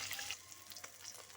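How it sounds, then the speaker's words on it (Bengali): Pieces of katla fish frying in hot mustard oil, a soft close sizzle and crackle with faint spitting pops, quiet and continuous over a short moment. "মাছগুলোকে আমি উল্টে পাল্টে লালচে করে ভেজে নেব।"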